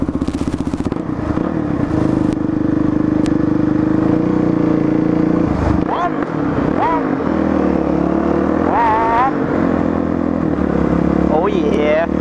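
A Suzuki DRZ dirt bike engine runs at a steady low idle, close and loud, with a few revving swells and clatter while someone talks over it.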